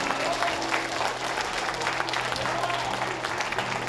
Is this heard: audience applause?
yes